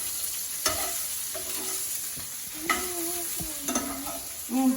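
Shishito peppers cooking fast in a pan with salt, stirred now and then: a steady sizzle carries throughout, broken by a few sharp scraping strokes of the stirring utensil, close and clear with no talking.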